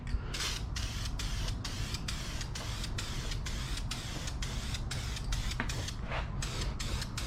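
A motorcycle frame is spray painted in light coats, giving a continuous close hiss broken into short, rhythmic bursts as the nozzle is pressed and released.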